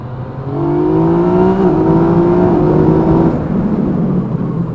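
A 2017 Yamaha MT-09 motorcycle fitted with an Akrapovic exhaust revs up and shifts through upper gears, its engine tone climbing, dropping briefly at each shift, then climbing again, close and loud with no talk.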